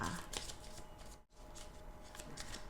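Tarot cards are shuffled up close at a reading, a soft riffling flutter with a brief pause midway before the shuffling resumes, quiet and unaccompanied by talk.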